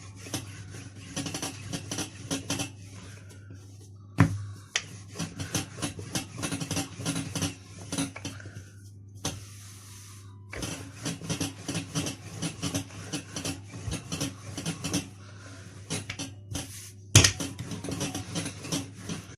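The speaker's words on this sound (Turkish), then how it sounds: "Önce oklavayı merdaneyle açıyorum." Dough for walnut pastry (cevizli çörek) is rolled out thin with a rolling pin on a work surface, giving repeated soft rolling strokes and light knocks over a steady low hum, with brief pauses between passes.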